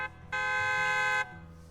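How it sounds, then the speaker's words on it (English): A loud, sustained truck horn blares for about a second in Zenless Zone Zero as trucks roll into an open area, a steady tonal honk over faint background. "A loud honk echoes as several trucks with the Leaps and Bounds logo drive into the open area"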